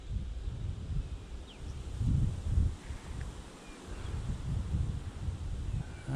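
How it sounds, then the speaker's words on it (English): Wind blows outdoors at a bass fishing spot near Hattingspruit, Dundee, with low rumbling gusts buffeting the microphone that swell and ease over a few seconds. "Just wait for this wind to die a little bit."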